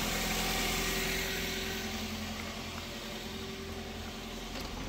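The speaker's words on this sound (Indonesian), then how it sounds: "Ini posisi udah nyala untuk mesinnya." A used car's engine idles in a steady, smooth, low hum with a faint mechanical whine, moderately quiet and unbroken, no speech.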